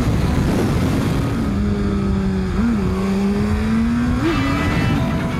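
A motorcycle screams along at around 140 mph in fifth gear on its back wheel, a loud sustained engine drone whose pitch wavers and rises slightly while passing a Ferrari.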